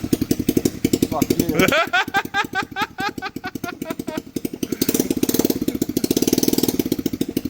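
A muscle car engine revs hard, with loud, rapid pulsing rises and falls in pitch close by, and someone shouts over it briefly.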